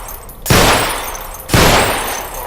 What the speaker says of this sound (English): firing from the hip is not an easy business, especially with a sidearm